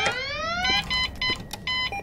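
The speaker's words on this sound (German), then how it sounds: "dann gehen wir erstmal nochmal zurück und machen erstmal den Alarm aus" Electronic alarm in the video game Goodbye Deponia, repeating high bleeping tones in short regular bursts after a rising, wavering opening, loud and clear with no talk over it.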